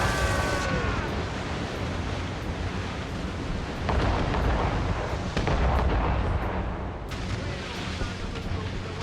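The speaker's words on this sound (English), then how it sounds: "Ready those mortars, Shay." Ship mortars and cannons booming in a naval battle in Assassin's Creed Rogue, a loud continuous roar of heavy blasts and rumbling explosions with shouted voices mixed in.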